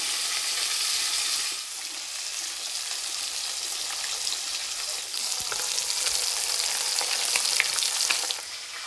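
Pangas fish frying in a pan of hot oil, a loud continuous hiss and crackle with brief dips and spits, close and steady.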